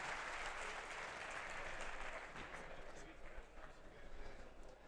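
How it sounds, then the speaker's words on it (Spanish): A conference audience at a cybersecurity event applauds continuously to welcome a speaker on stage, a dense steady clapping that tapers slightly and then swells again. "recibimos ya, por favor, con un aplauso en este escenario de Cyberworld"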